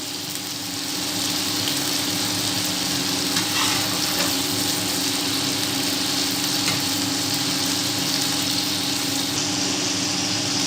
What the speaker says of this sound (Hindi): ये हमारे कबाब फ्राई हो चुके हैं।